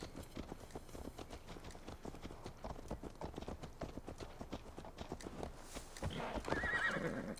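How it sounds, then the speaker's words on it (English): Hooves clip-clop in a steady, quick rhythm at moderate distance in Assassin's Creed: Valhalla, followed near the end by a horse's whinny. "Why do we ride horses?"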